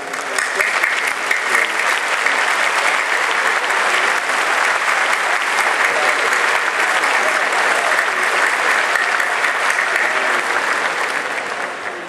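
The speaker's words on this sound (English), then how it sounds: "please stand and let's give them a round of applause" Applause from a large crowd at a Republican state convention in Georgia, a loud, dense and continuous roar of clapping that holds steady throughout.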